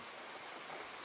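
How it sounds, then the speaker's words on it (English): Rain falling in the Red Dead Redemption 2 video game, a steady soft hiss of drops spread evenly with no voices. "look it's raining"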